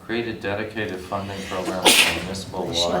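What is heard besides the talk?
sneeze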